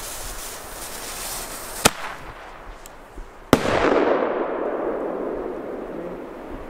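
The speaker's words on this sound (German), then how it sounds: "Direkt ein alter Flashbang." A flashbang firecracker goes off during a pyro session in the Czech Republic: a couple of sharp bangs against outdoor background noise, then a loud close burst followed by a sustained crackling hiss that slowly fades.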